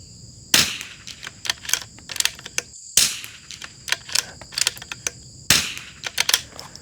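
Rimfire rifle shots fired through a CRB barrel on a range: three sharp, loud cracks spaced a couple of seconds apart, each followed by faint clicks and rattles of the action, with no voices.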